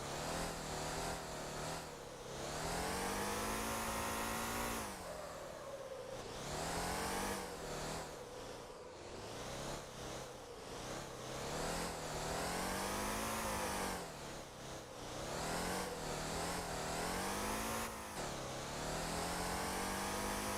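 Car engine in the Motor Town driving game, a steady loud engine drone that repeatedly rises in pitch through the gears and drops back, continuous and alone for about twenty seconds.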